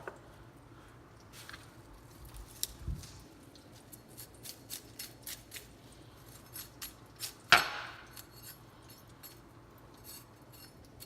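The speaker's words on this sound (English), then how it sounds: "the first thing I'm doing is I'm cutting off the leaves from the stem" Kale leaves being cut away from their stems on a kitchen board, quiet scattered slicing and scraping ticks with one sharper snap near the end.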